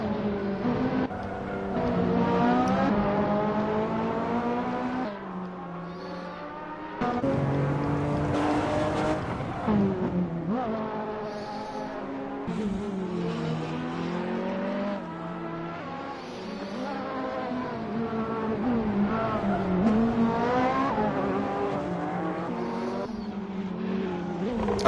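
A Porsche 911R engine in the Assetto Corsa racing game revs up and down through the gears, with rising and falling tones and brief dips at shifts, loud and continuous, with no talk.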